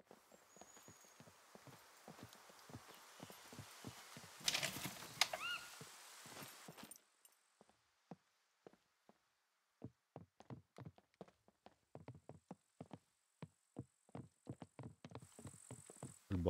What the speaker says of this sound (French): J'entends beaucoup de bruit de pas.